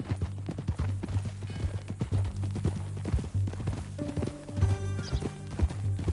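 Steady clip-clop of horse hooves at a walking pace in Red Dead Redemption 2, close and rhythmic, with a low musical drone underneath and a brief tonal swell toward the end.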